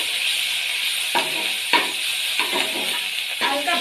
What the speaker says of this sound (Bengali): এবার এই তেলের মধ্যে আমি পেঁয়াজ বাটাটা দিয়ে দিলাম।